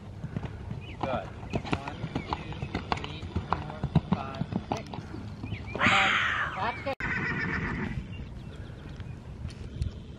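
Steady rhythmic clip-clop of show horse hooves on firm ground, close by, with a brief whinny-like burst midway and a person speaking briefly.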